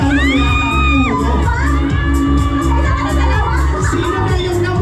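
A loud, close crowd of children and adults at a live bingo game shouts, whoops and cheers continuously, with a rising shrill voice and overlapping chatter throughout.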